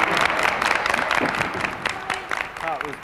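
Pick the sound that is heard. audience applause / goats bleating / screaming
audience applause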